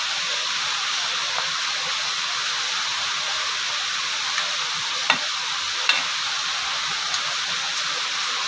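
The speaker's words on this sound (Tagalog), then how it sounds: "Lapit na pong maluto ang ating pakbet." Ginataang pakbet, vegetables simmering in coconut milk, sizzles steadily in a pan while being stirred, with a constant bubbling hiss and a few sharp clinks of the utensil against the pan, no talking.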